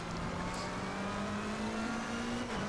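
A GT3 race car engine howls in Assetto Corsa Competizione at Zandvoort. One steady, sustained tone climbs slightly as the car gains speed in a slipstream, close and continuous with no talk.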